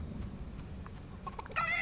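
A chicken in a video game lets out a short burst of clucks near the end, rising briefly over a steady game background hum.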